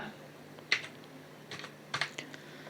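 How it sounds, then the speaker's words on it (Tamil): Sparse keystrokes on a computer keyboard while typing a captcha code, a few soft clicks in small clusters over a low hum. "அந்த கேப்சா கோடை கரெக்டாக பார்த்து டைப் பண்ணிக்கோங்க"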